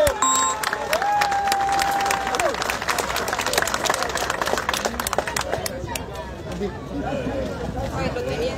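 A crowd at a Vuelta Ciclista del Uruguay stage awards ceremony claps and cheers steadily, with an announcer's voice and a whistle-like tone over the applause early on, fading into a looser patter toward the end.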